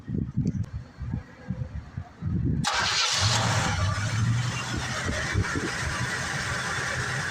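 A Chevy C10 square body truck engine cranks with uneven pulses, catches at about two seconds, and settles into a steady, loud, rumbling idle.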